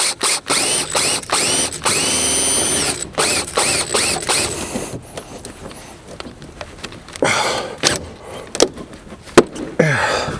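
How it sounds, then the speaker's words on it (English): A power drill boring into Jeep Gladiator fender extensions, running in repeated short bursts with ratcheting mechanical whirs and brief pauses, close and loud. "I'm drilling them"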